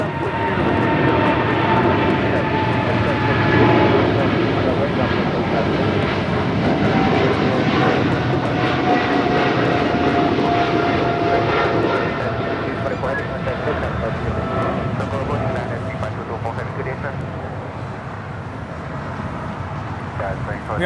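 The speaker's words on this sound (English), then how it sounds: "We have China Airlines cargo now rolling on 25 right." China Airlines cargo jet rolling for takeoff on runway 25 right at Los Angeles International Airport, a loud, close, swelling engine roar with a sliding whine that slowly fades, with a voice talking over it.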